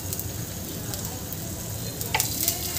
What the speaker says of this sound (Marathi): आता याला खालच्या बाजूने सुद्धा छान शिजून घ्यायचं आहे, भाजून घ्यायचं आहे छान।